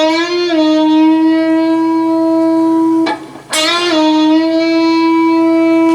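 Electric guitar playing a sustained note with a half-step bend and release, then a brief pick noise and a fresh bent note ringing out, clean and close with no talk; part of a blues lesson.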